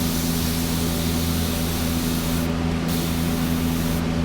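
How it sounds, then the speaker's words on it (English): A spray bottle mists continuously in one loud, steady, close-up hiss that lasts the whole time, with a constant low hum underneath. "So there's the spray bottle."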